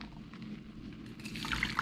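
Hot water pours steadily from a container into a cup for instant coffee from a U.S. military MRE, BBQ shredded beef menu, a close, continuous liquid rush that grows a little louder toward the end with a few brighter splashes.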